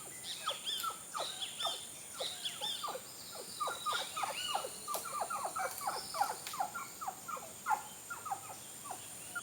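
Small birds chirp repeatedly in quick, irregular bursts, fairly faint and distant, in a mangrove forest heard from a kayak, over a quiet outdoor background with a faint steady hiss.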